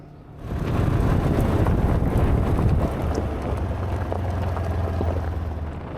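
2025 Polaris General 1000 Sport UTV being driven, a loud, steady engine drone with heavy wind rush across the microphone after a brief quiet start, no talk.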